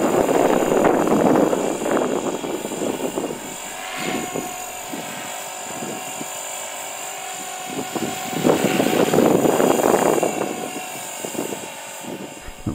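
EXI 450 flybarless RC helicopter without stabilization flying forward into the wind outdoors, a steady high rotor and motor whine that swells louder twice as it passes nearer, with no talking.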